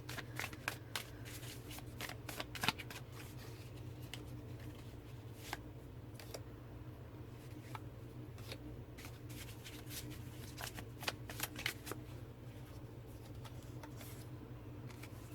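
Tarot cards shuffled by hand for a reading, a steady run of soft riffling and flicking snaps, close and quiet, with no talking over them.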